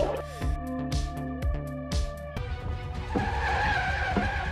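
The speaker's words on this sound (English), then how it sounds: "The car lost control on a snowy mountain road." A car skids out of control on a snowy mountain road, loud engine drone layered with repeated sliding, scraping bursts in the first half, then a broad rushing skid noise, no voices.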